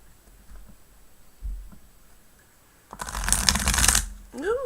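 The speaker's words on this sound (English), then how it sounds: "Good shuffle." Tarot card deck shuffled by hand: a few soft taps, then a loud, close riffling burst for about a second, followed by a brief voiced murmur.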